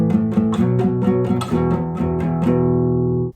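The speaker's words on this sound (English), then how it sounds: "A power chord is your root and a fifth layered together." Guitar power chords built from a root and a fifth, strummed in a steady rhythmic pattern of repeated attacks for about three seconds before ringing out and cutting off; loud and close, with no talk.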